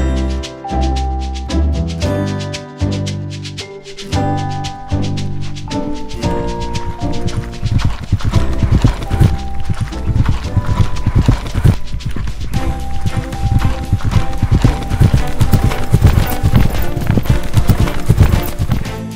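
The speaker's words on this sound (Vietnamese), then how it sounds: "Phú ông xem ngựa." Hooves clip-clop quickly in a cartoon scene about a horse-viewing folk tale, loud and rhythmic under dense musical accompaniment that starts with sharp staccato hits.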